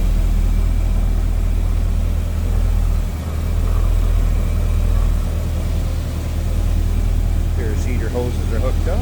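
A 1956 Chevrolet Bel Air convertible's 265 V8 with a Carter four-barrel carburetor idles in a steady low rumble throughout, running continuously beneath a voice talking nearby.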